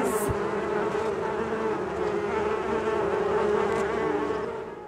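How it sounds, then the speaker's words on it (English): A swarm of bees buzzes loudly and continuously, a dense droning hum that holds steady throughout before easing slightly at the end. "Release the bees!"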